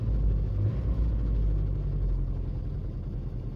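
Deep, continuous rumble from an Opel car engine making strange extra noises, suspected from a worn tensioner pulley, with the car jacked up; close and steady, with a slight revving swell near the start.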